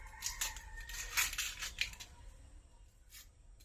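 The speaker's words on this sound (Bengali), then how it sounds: "আলুটা একটু এই যে পেঁয়াজ কেটে নেব।" Onions being cut with a knife in a home kitchen make a handful of quiet, crisp slicing clicks in quick succession, then a brief pause and one more faint cut.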